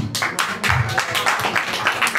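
An audience breaks into applause at a book event, a brief burst of quick, rhythmic claps close and fairly loud.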